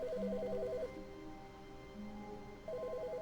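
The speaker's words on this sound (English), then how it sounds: "the phone's ringing" A telephone rings in the video game The Stanley Parable, two short warbling trill bursts separated by a pause, moderately faint over a steady hum of background.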